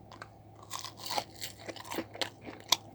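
Someone bites into crunchy rustic roast potatoes, with several close, sharp crunches and chewing bursts in quick succession over a quiet low hum.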